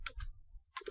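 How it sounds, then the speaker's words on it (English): A few quiet keystrokes on a computer keyboard, typing a command in Kali Linux: a quick pair of clicks, a pause, then two more taps. "So I'll type set payload"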